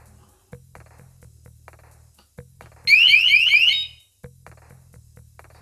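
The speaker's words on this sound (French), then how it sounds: "Normalement, l'alarme est allumée." A newly unboxed alarm unit sounds one loud, harsh electronic siren burst lasting about a second, set among quieter clicks and low hums before and after.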